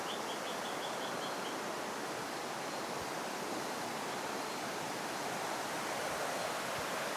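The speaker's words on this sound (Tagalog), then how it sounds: "yung agos ng ilog" A river current rushes steadily past a campsite, a dense continuous hiss of flowing water at even loudness, with a brief string of faint bird chirps early on and no talking.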